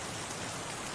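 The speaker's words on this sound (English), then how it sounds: "Rain is continuing like a curtain that is never lifting." Steady rain falls outside an RV, a dense continuous hiss of drops drumming on surfaces with no breaks, even and close throughout.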